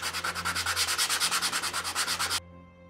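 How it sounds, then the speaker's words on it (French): Leather is sanded by hand before gluing, giving a fast, steady rhythmic rasping of about twenty close, loud back-and-forth strokes that stops abruptly near the end. "Avant de mettre de la colle, je ponce pour avoir une meilleure force d'adhérence."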